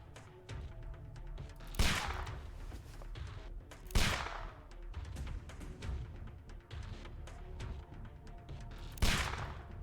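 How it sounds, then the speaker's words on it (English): Gunfire in the Sherlock Holmes: The Devil's Daughter video game, with three sharp loud shots spaced a few seconds apart, each ringing out briefly over a low rumbling game background. "We laid down so much covering fire at least."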